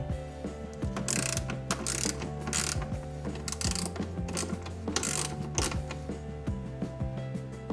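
A socket ratchet clicks rapidly and continuously while backing out 8mm screws on a 2017 BMW i3, loud, close, rhythmic pawl ticking in repeated bursts throughout, with no talking.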